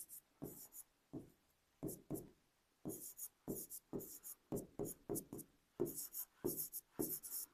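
Numbers being written by hand during a maths lesson, a series of short scratchy strokes in quick uneven bursts, close and quiet.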